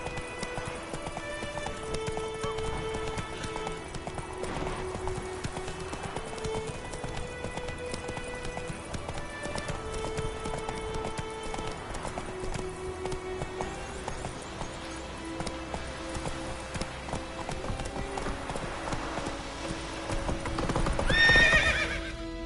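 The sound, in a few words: horse galloping in the video game The Witcher 3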